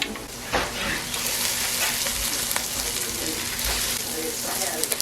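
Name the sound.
onions sizzling in olive oil in a pan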